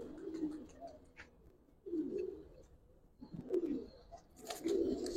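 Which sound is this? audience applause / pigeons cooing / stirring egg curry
pigeons cooing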